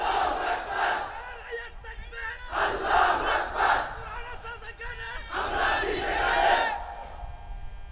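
A large crowd chants the takbir slogan "Allahu Akbar" in loud, unified shouts. Three roaring waves of voices rise and fall over a continuous background murmur.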